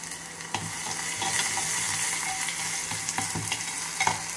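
Crushed garlic hits hot oil in a pan already holding mustard seeds and dried red chillies for an Andhra mango dal tempering, giving a steady close sizzle punctuated by spoon scrapes and clinks.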